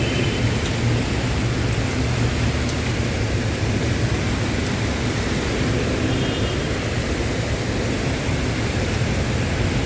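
Constant heavy afternoon rainfall hisses evenly over flooded Taft Avenue, with deep distant thunder rolling beneath it the whole time.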